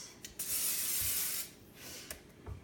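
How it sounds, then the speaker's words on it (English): Pam cooking spray hisses onto a preheated griddle in two short bursts, a close, airy spray with a brief pause between them and no talk. "Spray a little bit of Pam on it."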